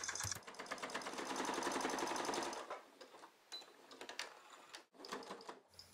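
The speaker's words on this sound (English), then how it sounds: "In this step, I will sew right along the edge of the long sides of each handle." A sewing machine stitches along the long edges of fabric handles for a Santa-pants wine bag, running in a steady rapid whir for about two and a half seconds, then stopping, with fabric handling and small clicks after.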